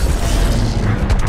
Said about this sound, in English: But luckily, I have grenade launcher! Or rocket launcher.